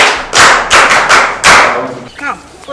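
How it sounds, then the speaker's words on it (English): A handful of loud, sharp claps ring out up close in a classroom, about five separate bursts in quick succession, followed by a voice speaking. "Clap for him. And clap for him too."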